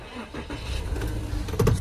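A worn Volkswagen Touareg (GP) engine is started, giving a short cranking stutter that catches into a steady mid-pitched idle, close and fairly loud.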